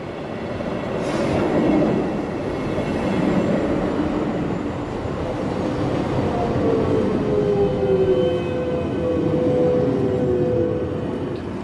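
Steady rumble of a train rolling along the rails, with thin metallic squeals rising and fading over the continuous low roar.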